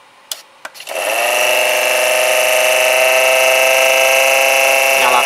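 A 12-volt DC cooking oil pump motor switches on after a couple of short clicks and keeps up a loud, steady, high-pitched whine with an even buzzing hum, running alone with no talk.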